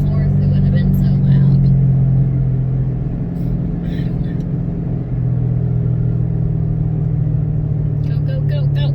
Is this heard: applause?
no